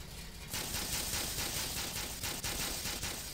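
A Black Mesa tau cannon fires in Garry's Mod, a sudden loud burst after a quiet moment, then a sustained harsh, crackling buzz with a few sharp pulses.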